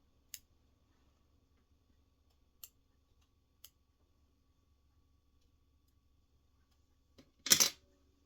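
Scissors trim woven-in yarn ends on a knitted piece: a few faint, isolated clicks in a quiet room, then one short, crisp snip near the end, close by, with no voices.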